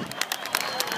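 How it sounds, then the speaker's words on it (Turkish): A crowd claps and cheers for a singer at a Turkish folk performance, a steady patter of many hands with a voice briefly over it. "Alkışlar sevdiğimize gelsin"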